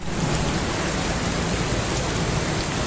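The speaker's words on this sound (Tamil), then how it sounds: "நல்ல சம மழை." Heavy rain pouring steadily outdoors, a dense, even hiss of drops that holds at constant loudness with no pauses or voices.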